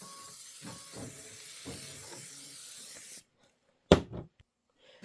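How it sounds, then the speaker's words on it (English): A steady aerosol hiss sprays onto quilting fabric for about three seconds, then stops, followed by a sharp thump and a few soft handling noises. "give this a little shot of spray"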